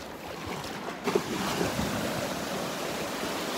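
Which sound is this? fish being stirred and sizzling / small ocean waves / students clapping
small ocean waves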